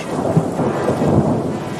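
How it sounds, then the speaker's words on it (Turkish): A thunderstorm at sea in full force: a dense, steady roar of rain with rolling thunder rumbling low underneath, loud and continuous throughout. "Çakan şimşeklerle birlikte büyük bir fırtına kopmuş."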